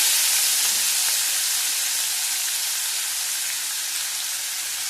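Onions sizzle steadily in a hot pan with bay leaves for a chicken malai curry made with coconut milk, a dense, continuous frying hiss that stays loud and even throughout with no voices.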